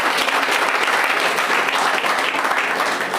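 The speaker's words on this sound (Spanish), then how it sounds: "Denle un fuerte aplauso a Dios por eso." A church congregation gives a loud, sustained round of applause during a Spanish-language sermon, with thick, even clapping and no pauses throughout.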